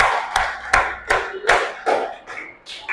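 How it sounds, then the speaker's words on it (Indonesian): Classroom group in Indonesia clapping for the third discussion group, with loud, sharp claps coming in a rough regular rhythm, about one every third of a second, close by, with some voices mixed in. "tepuk tangan untuk kelompok 3"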